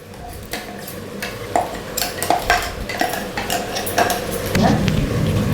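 Ground masala is stirred into chicken gravy in a pot, with a spoon clanking and scraping against the metal in irregular knocks over a low background hum.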